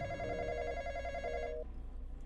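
A phone rings in the Roblox horror game The Intruder, its electronic warbling tone pulsing in two bursts over a steady low game hum before cutting off.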